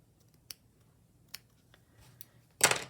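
Scissors snipping craft fabric or paper during slow stitching, a few isolated crisp snips near the mic followed by a longer louder cutting burst at the end, no talk.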